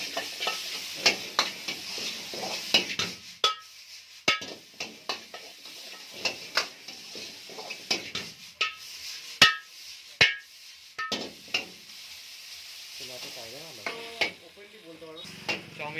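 Fried chicken is stirred into chow mein noodles in a pan. A spatula clanks and scrapes sharply and repeatedly against the metal over a light frying sizzle, with irregular bursts of knocks and brief pauses.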